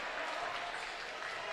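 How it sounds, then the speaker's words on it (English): Fans applauding at a seventh grade boys basketball state final, a steady dense wash of clapping filling the gym, moderately near, with a voice talking over it. "the St. Michael's fans applauding some of their kids' efforts here"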